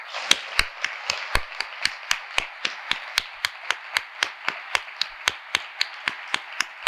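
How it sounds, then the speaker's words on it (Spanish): An audience at the opening of a Spanish hospitality campus claps for hospitality workers in a steady rhythmic beat, with sharp, evenly spaced claps continuing throughout. "¿qué os parece si terminamos con ese aplauso para ellos?"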